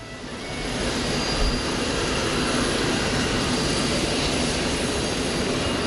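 A jet aircraft's engines run before takeoff: a steady, loud, broadband roar that swells in the first second, then holds evenly throughout with no voices.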